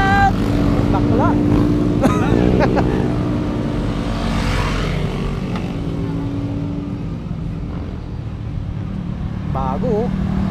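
Yamaha R15 motorcycles pass by on a road, engines rising and fading at mid distance amid traffic noise, with several people shouting and talking over them.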